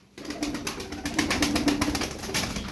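Tumbler pigeons coo steadily in their loft, a close, continuous low murmur of overlapping calls with no talk.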